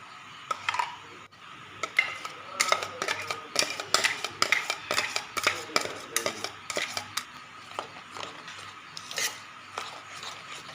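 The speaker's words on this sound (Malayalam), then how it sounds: "സ്പൂണോ കൈയോ വെച്ച് യോജിപ്പിച്ചെടുക്കാമേ" A spoon stirs thick jackfruit bonda batter of wheat flour and ground paste in a bowl, making repeated close scraping and clinking strokes in an uneven rhythm with no talk.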